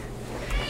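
A house cat meows once, a short brief call near the end over a faint background hum, with no talk in the moment.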